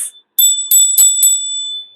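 A small hand bell rings four times in quick, even succession, bright and clear with a lingering high ring, preceded by a brief faint jingle.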